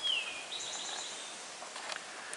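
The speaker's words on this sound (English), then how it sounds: "what you hear now, the quiet, or the birds chirping and stuff" A few faint bird chirps, with one thin descending call near the start, rise over near-silent hiss in quiet countryside.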